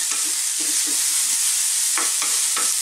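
Finely chopped food sizzles loudly in a pan over high heat, a steady close hiss broken by a few soft scrapes and clacks of stirring, with no voices.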